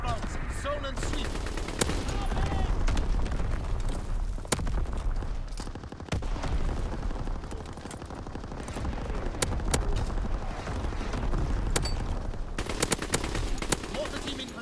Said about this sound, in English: Target position confirmed. Sending mortar rounds.